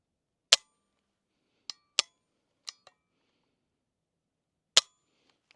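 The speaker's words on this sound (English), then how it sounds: "Let's go ahead and check out that trigger together." Dry trigger pulls on an unloaded Smith and Wesson 1854 Stealth Hunter lever-action rifle: several sharp, close metallic clicks spaced irregularly with silence between them.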